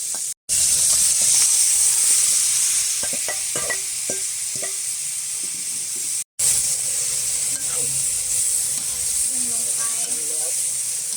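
Thai morning glory stir-frying in a hot pan with coconut, a loud steady sizzle with spatula scrapes and clinks, two brief cuts to silence.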